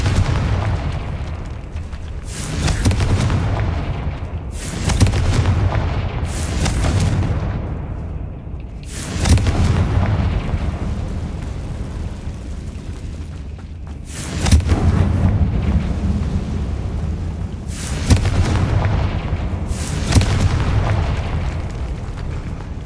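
Confringo blasting curses burst in a Hogwarts Legacy catacomb fight, a string of heavy booming explosions at irregular intervals, each a sharp loud blast trailing into a low rumbling decay over a continuous low roar.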